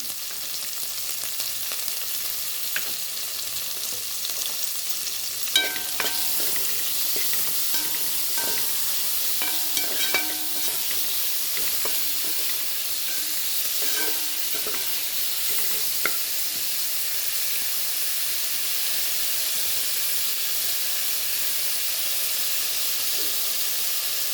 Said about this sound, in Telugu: ఆనియన్స్ మగ్గుతున్నాయి కదండి, ఇప్పుడు ఈ టైంలో సాల్ట్ వేసుకుంటే తొందరగా మగ్గుతాయండి.